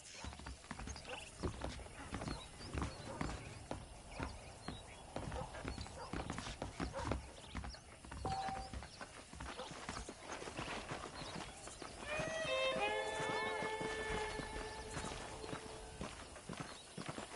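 Rhythmic hoofbeats clip-clop steadily throughout in Red Dead Redemption, with a horse whinnying partway through and a voice talking over the sounds.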